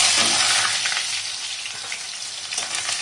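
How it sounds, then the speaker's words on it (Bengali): Turmeric- and salt-coated shrimp fry in oil seasoned with black cumin seeds, giving a loud, close, continuous crackling sizzle that eases slightly over a few seconds, with faint stirring. "মাছটা লবণ হলুদ দিয়ে মাখিয়ে রেখেছিলাম, ওটা দিয়ে দিলাম, ভালো করে ভেজে নেবো"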